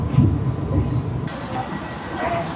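Rumble of a train ride out of Waterloo, a steady low rolling drone inside the carriage, fairly loud and continuous throughout, with no talking.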